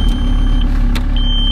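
A used car at a Copart auction yard idles with a strong, smooth low rumble close up, steady throughout, with a faint high whine and a couple of brief clicks on top.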